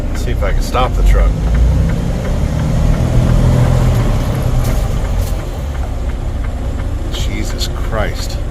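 A truck engine idles and rumbles steadily in a parking lot during an ice storm, loud and close, while someone talks over it and short squeaks and a hiss are heard.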